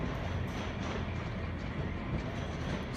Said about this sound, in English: HST's just departed.